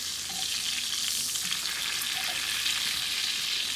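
Brined pork chops fry in a pan of hot oil with a dense, continuous crackling sizzle that holds steady and close throughout.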